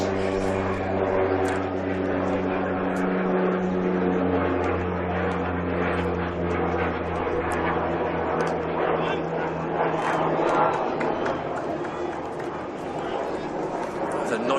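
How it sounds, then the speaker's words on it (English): An aircraft departing John Lennon Airport, about half a mile from a cricket ground, fills the whole stretch with a loud, steady, broad roar that swells slightly and never drops away. "Noisy aircraft as well, just leaving John Lennon Airport away."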